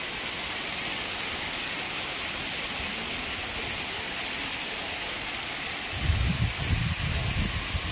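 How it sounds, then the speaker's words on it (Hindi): Water runs down the mountainside near the Anjani Mahadev temple above Solang Valley, Manali, during the monsoon, a steady broad hiss with a deeper rumbling surge near the end. "पानी बह रहा है।"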